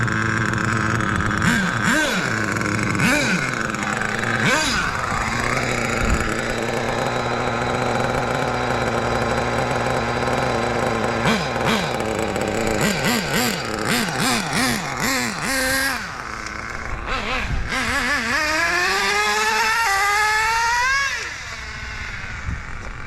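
HPI RS4 RC car on a speed test run, its electric motor whining steadily throughout with rising and falling pitch sweeps as it speeds up and slows, loud and close, easing off near the end.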